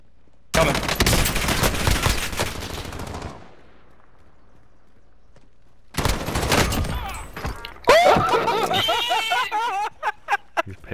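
Gunfire in the video game Call of Duty: Modern Warfare: loud, dense automatic bursts crackle, stop for a couple of seconds of near-quiet, then return as heavier volleys and scattered single shots.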